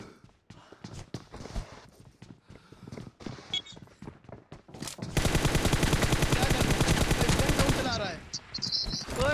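Automatic gunfire rattles in a fist-fight team deathmatch video game, starting with scattered shots and footsteps, then a loud, sustained machine-gun burst that ends abruptly, followed by further game sounds.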